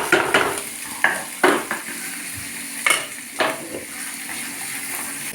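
Chopped vegetables fry in hot oil in a pan, a constant sizzle punctuated by repeated scraping stirs and spatula clinks at an uneven rhythm, close and fairly loud, with no voices.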